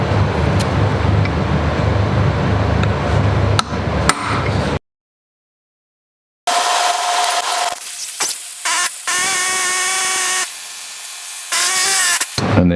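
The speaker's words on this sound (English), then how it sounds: "We're going to throw some penetrating oil on here and then hammer it back through that way" A hammer drives a rusty bolt out of a Honda Goldwing engine treated with penetrating oil: sharp metallic blows in bursts, a brief silent pause, then more close, loud strikes and ringing knocks.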